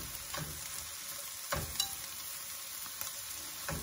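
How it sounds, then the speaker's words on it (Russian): Mushrooms and onion sizzle steadily in vegetable oil in a frying pan, a continuous close hiss with a few louder crackles and faint stirring knocks, no voices. "И оставляем жариться."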